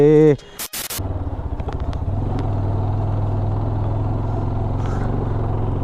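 A motorcycle engine starts after repair: a voice and a short clatter come first, then the engine catches and settles into a steady, close idle.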